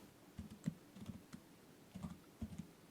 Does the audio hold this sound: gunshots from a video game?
no